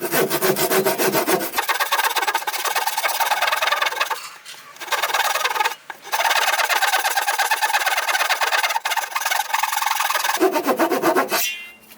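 Rapid, loud rasping and sawing into the wood of an external door during a joinery repair, continuous scraping strokes broken by a few short pauses, close to the listener and with no talking.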